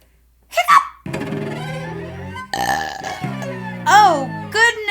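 A puppet dragon's voiced burps and hiccups, performed by a person imitating the sounds, come in short comic bursts among playful vocal sounds in a fire-safety puppet show.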